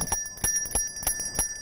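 A Salvation Army volunteer's handheld bell rings steadily in quick repeated strikes, several clangs a second, bright and close with a faint background hum.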